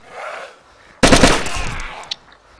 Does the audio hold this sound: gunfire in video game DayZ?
yes